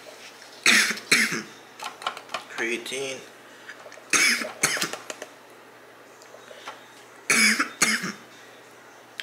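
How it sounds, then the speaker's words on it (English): Someone coughs repeatedly after taking a scoop of pre-workout powder, in several sharp bursts spread across the stretch and separated by pauses, with a brief spoken word in between, close to the microphone. "Pre-workout got me coughing, bro."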